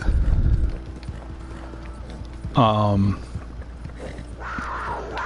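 Horse hooves clip-clop in a video game with a cougar nearby, a low steady rhythm under someone talking over game sounds, with a brief bright tonal call in the middle.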